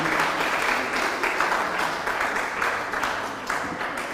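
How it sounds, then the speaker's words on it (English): Steady applause from an audience at a riddle contest, dense and sustained for the whole stretch, with no voices over it. "give yourself a round of applause"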